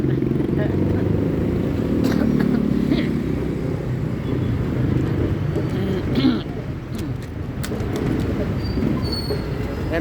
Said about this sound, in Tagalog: bilangin muna natin mga sasakyan na dumadaan